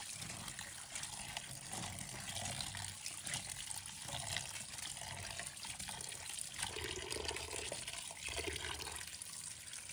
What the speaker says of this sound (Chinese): 将虾放在流水下冲洗，用手轻揉搓，去除表面的杂质和泥沙。